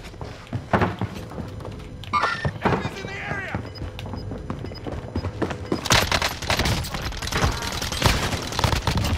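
Rapid gunfire bursts and impacts from Call of Duty Cold War in Warzone, fired in dense volleys that get louder and busier toward the end, with players talking over the shooting.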